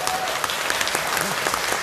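An audience at a forestry management lecture gives a dense, steady round of applause that continues evenly throughout, loud and close.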